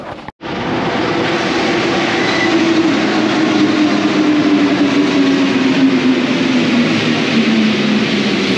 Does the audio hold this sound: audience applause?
no